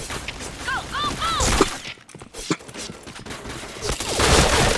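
Rapid gunfire bursts from a shooter video game ring out loud and near, with dense crackling shots at the start and end, a short quieter stretch between with a few scattered shots, and some voice mixed in.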